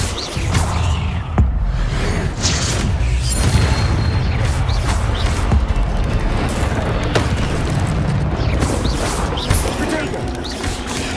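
Incendio fire spells cast in Hogwarts Legacy, loud booming fiery bursts and crashing whooshes over a dense, continuous rumble of combat effects.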